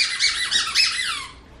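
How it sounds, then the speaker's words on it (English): Squeaky dog toy from Dog It Design, squeezed in several quick loud squeaks in a row, with no talk over it. "Oh, and it squeaks as well."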